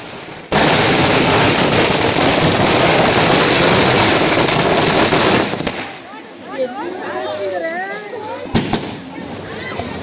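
Firecrackers going off at a village festival for Basavanna's Konda: a loud, dense, continuous crackling barrage for about five seconds that then stops, leaving warbling whistle-like chirps and a couple of sharp pops.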